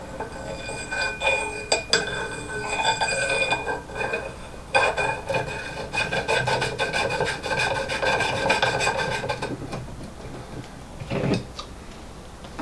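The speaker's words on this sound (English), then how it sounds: "So we're going to put this barrel nut on this guy." A metal barrel nut is threaded onto an AR-15 upper receiver, giving repeated close scraping and grinding metal-on-metal rasps with a few sharp clicks, with no talking.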